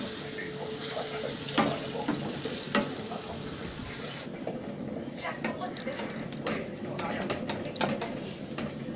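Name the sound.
beef and celery stirred and frying over low heat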